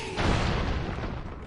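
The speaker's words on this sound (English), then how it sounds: "Explosions." A single deep, rumbling video game explosion from Broforce booms after a brief pause and then decays into a noisy tail, loud and close.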